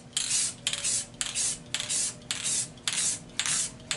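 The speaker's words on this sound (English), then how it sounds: "Now I'm going to put I think it's the fourth coat of spray lacquer onto this clock." Repeated bursts of aerosol spray hissing as lacquer is sprayed onto a wooden clock, seven short blasts in a steady rhythm with brief pauses between, close and fairly loud.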